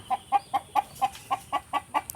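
A chicken clucks in a steady run of about ten short, evenly spaced calls, close by and fairly quiet, with no talking.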